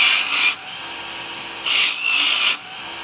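A leather gun holster has its rough edges sanded on a JOOLTOOL sander, two loud hissing abrasive passes with a short pause between, close up and with no talk.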